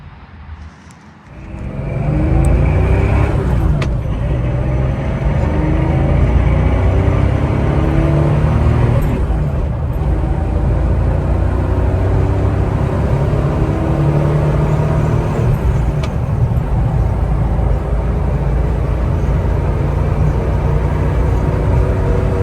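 An always-garaged California car with a short shifter starts up and settles into a loud, steady engine rumble, rising with a couple of revs early on and holding near and continuous with no talking.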